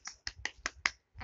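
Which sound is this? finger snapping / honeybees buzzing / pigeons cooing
finger snapping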